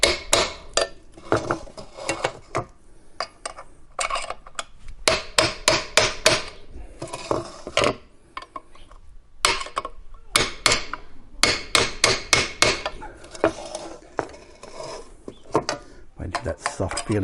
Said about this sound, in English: we have to remove the bearing race, which you just use a screwdriver and hammer.